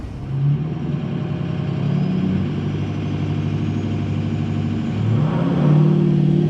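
Ford 6.0 diesel pickup truck engine with a performance tune, a loud steady low rumble that rises and revs up toward the end, close and continuous with no talk.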